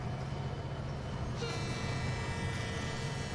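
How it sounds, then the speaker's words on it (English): A train runs in the virtual-reality model railway game Rolling Line, giving a steady, dense rumble of rolling wheels with a tonal horn-like whine rising partway through. "You can drive the train."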